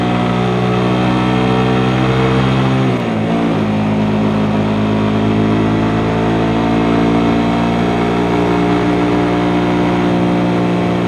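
A loud Suzuki GSX-S motorcycle engine runs steadily, its pitch lifting as the throttle opens and briefly dipping, all close and continuous with no talking.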